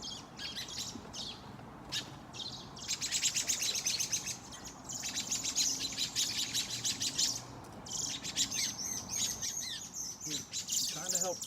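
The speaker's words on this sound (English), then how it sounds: "I'm gonna go get the birdie, the little bird." A baby bird repeats rapid high chirps in quick rhythmic bursts with short breaks, close and loud, over a faint background of rustling and low noise.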